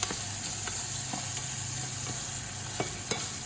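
Tomatoes and rice stirred in a sizzling pan, a steady frying hiss with scattered scraping clicks of the spoon, close and continuous.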